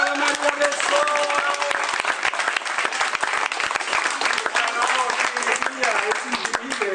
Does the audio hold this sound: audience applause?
yes